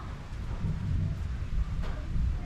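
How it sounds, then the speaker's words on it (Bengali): Light drizzle falling in humid, cloudy weather after a spell of intense heat, a steady soft wash of rain with low rumbling wind and rustle underneath, continuous and moderately faint. "দেখো গুড়ি গুড়ি বৃষ্টি হচ্ছে"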